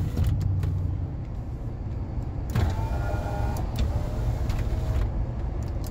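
The inside of a 1996 Ford F150 short box 4x4 pickup while driving, with a steady low road and engine rumble and a few clicks and whirs from the power locks and windows.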